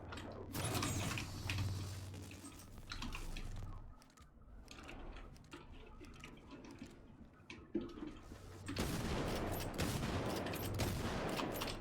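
Gunfire from the video game Generation Zero: repeated loud bursts of shots over a dense, noisy game soundscape, with a brief lull midway before heavy firing resumes, and no voices.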